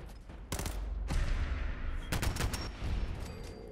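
In the wasteland video game Rhonda: Tales from the Wasteland, gunfire goes off in a few sharp bursts. Two loud volleys of shots come close together, and each one leaves a short rumbling tail.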